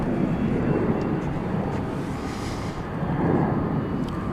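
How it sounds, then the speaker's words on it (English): Airbus A321 airliner in America West retro livery at DFW Airport, a broad steady jet engine roar with wind noise, holding loud throughout and swelling slightly near the end. "That was Flight 3009 from Phoenix, an Airbus A321 with the America West"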